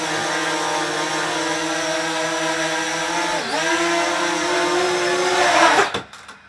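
A small quadcopter drone, likely a Parrot, hovering indoors above a table in a cramped room, giving a loud steady rotor whine that dips briefly in pitch, holds, then cuts off near the end.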